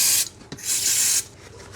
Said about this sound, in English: I have to use some brake cleaner about this and a piece of cloth.